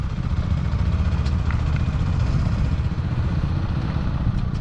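Beta ALP motorcycle engine running steadily at close range, a continuous low rumble with light mechanical clatter and no talk over it.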